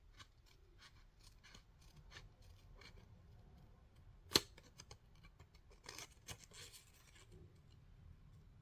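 Scissors snip through paper while an editable candy treat basket is cut out. Sparse, quiet cuts arrive irregularly, one sharper louder snip in the middle and a quick cluster of crisp snips near the end.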